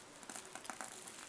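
Paper shipping label pressed and smoothed onto a cardboard package for an Amazon return, a quick run of soft crinkling and rustling taps, close and quiet with no speech.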